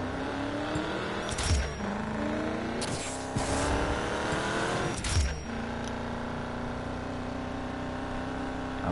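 Race car engine in Need for Speed Payback revving hard at a drag strip start line, loud repeated rises and drops in pitch with sharp shifts, close and sustained throughout.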